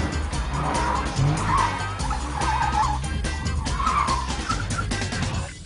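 Tyres squeal and skid through a failed handbrake turn on a test track, one of an Audi TT RS, Porsche Boxster S or Nissan 370Z, a loud wavering screech over engine drone throughout.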